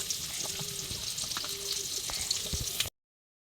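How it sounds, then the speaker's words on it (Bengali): Chopped onion and chili sizzle in oil in a wok, a steady soft crackling hiss with occasional stirring clinks, fairly faint and continuous, then cutting off abruptly. "আমার পেঁয়াজটা ভাজা হয়ে গেছে।"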